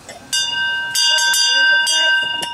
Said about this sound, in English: we're going to ring that bell